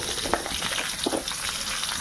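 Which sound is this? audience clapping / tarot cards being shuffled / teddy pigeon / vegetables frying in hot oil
vegetables frying in hot oil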